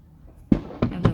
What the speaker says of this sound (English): That was a failed firework.